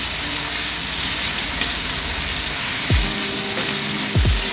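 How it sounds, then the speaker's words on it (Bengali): Tomato frying in a pan with onion, cumin and ginger paste for chana masala, a steady loud sizzle with two sharp falling chirps from stirring near the end, no voices. "টমেটো দেব, একটু নাড়াচাড়া করবো আমি।"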